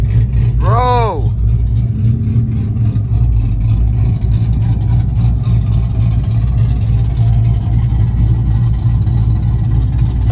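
A loud cammed truck engine idles with a heavy, choppy rumble after a short shout at the start, the low throb steady and close.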